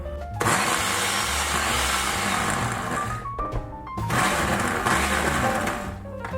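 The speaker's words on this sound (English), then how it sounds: "grab a half a pound of soft tofu, crumble it up in a blender," A blender pulsing soft tofu whirs loudly in two long bursts with a brief pause between, motor pitch shifting as it churns; no talking.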